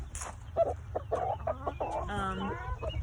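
Several chickens cluck repeatedly and fairly close by in a backyard flock of laying hens, with steady low rumble underneath and a brief higher call near the start.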